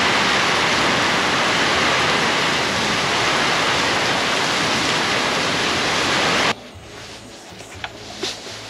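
Heavy rain downpour pours down in a steady, loud roar for several seconds during a winter van trip in Turkey, then cuts off sharply to a quieter background with faint scattered sounds.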